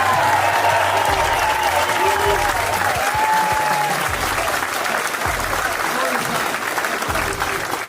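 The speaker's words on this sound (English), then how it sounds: "give this young guy a round of" Audience applause at an event with Conservative leadership candidate Pierre Poilievre, dense and sustained clapping throughout, loud and close, with background music or tones underneath.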